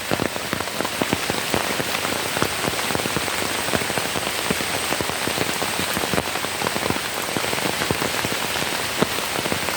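Steady rain patters on a surface, dense and continuous, with no voices.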